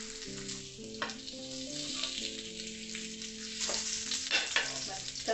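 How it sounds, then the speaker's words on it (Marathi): Stuffed pomfret fish frying in hot oil, a continuous soft sizzle with faint crackles and a low steady hum under it, no talk. "तो हा पापलेट आहे ना तो आपण फ्राय करून घेऊया चांगला"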